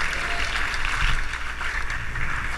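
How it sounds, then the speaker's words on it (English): Audience clapping after a prayer at a church service, a dense, steady wash of many hands filling the room at close range and loud throughout. "This tradition of clapping after prayer is not necessary."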